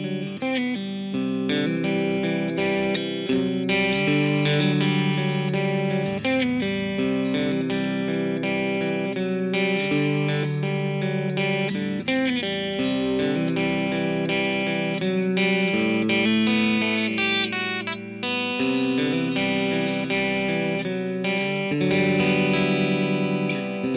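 Acoustic guitar played through a VOX AC10 amp with crunchy distortion, strummed chords and picked notes ringing with some reverb, loud and continuous with no talking.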